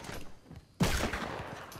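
A single sharp gunshot burst from a shooting video game cracks out loud and sudden partway through, leaving a decaying tail of game noise behind it.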